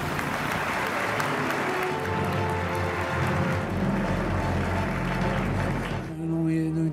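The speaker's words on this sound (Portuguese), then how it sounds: "Não tenho palavras para agradecer os aplausos que vocês me ofereceram" A crowd applauds steadily for several seconds, a dense, sustained clapping that fades out near the end.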